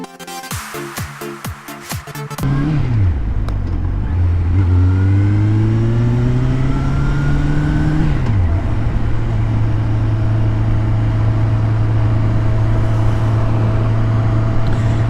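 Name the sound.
motorcycle riding on the road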